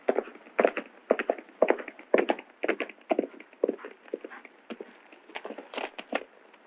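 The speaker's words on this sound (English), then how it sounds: "I hear a horse coming." Hooves clip-clop in a steady galloping rhythm, clear and fairly close, continuing throughout with no voices.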